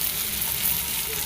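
Fish sizzles and crackles steadily as it fries in hot oil, close up, with a constant hiss throughout.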